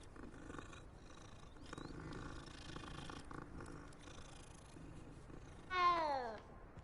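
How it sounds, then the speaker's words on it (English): A cat in the Hogwarts Legacy video game purrs softly in a low continuous rumble under quiet game ambience, then lets out a single rising meow near the end, louder than the purr. "There's a kitty."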